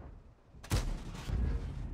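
Tank gun shot in the World of Tanks game, a single sharp boom with a rumbling tail, moderately loud over quiet game ambience.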